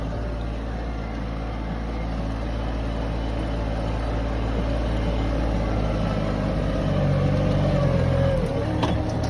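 A vehicle's wheels spin in manure-covered black soil, the engine droning loud and constant throughout with a slight rise near the end.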